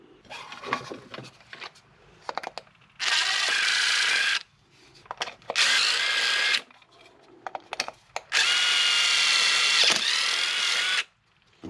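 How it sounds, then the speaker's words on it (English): A power drill whines in three sustained bursts of a second or two each while drilling out a plastic battery adapter, separated by quieter clicks and handling noises, close and loud. "I'm going to drill that out, take this thing apart"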